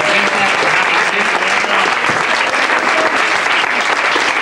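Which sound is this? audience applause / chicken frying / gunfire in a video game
audience applause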